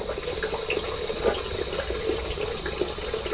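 Tap water runs continuously at close range while a shaving brush is rinsed clean, a steady broadband splashing rush with slight fluctuations from the brush moving under the stream.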